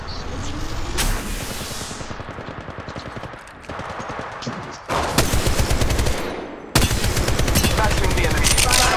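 Rapid automatic gunfire from the mobile battle royale game Apex Legends Mobile, with loud sustained bursts of repeated shots, brief pauses between volleys and a faint voice underneath.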